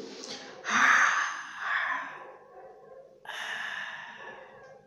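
A teacher in an early-childhood music lesson imitates a yawn with her mouth: a long breathy, sighing exhale that swells and fades, then a second softer breathy stretch, close and alone.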